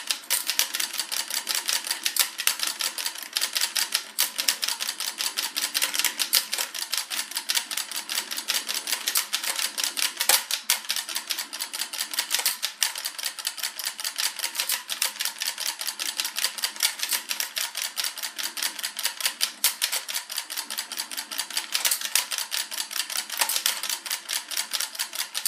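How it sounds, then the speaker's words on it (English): Rapid mouse or button clicking while firing repeatedly at a boss in a gun shooting video game, a dense, steady stream of sharp clicks that runs unbroken and fairly loud throughout. "Forgive all the repeated clicking that's about to happen."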